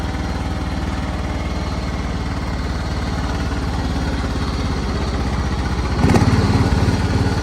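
A John Deere 260 tractor runs close by, its engine idling with a steady throb before the revs rise as throttle is applied near the end.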